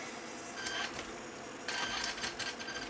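A small RC car's electric motor and servo run in short bursts, a thin high whirring and buzzing that starts and stops, close and fairly loud, with no talk.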